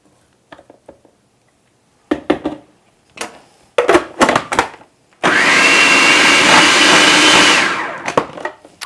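A food processor pulses minced onions in short loud bursts, then runs in one long steady whirring stretch of about three seconds before stopping, with no one talking.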